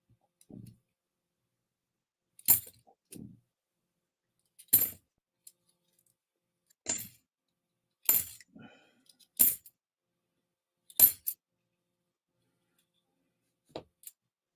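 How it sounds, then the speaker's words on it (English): Half dollar coins clink and drop in a series of sharp metallic bursts, about seven spaced a second or two apart, fairly close with quiet gaps between. "Listen to the coins."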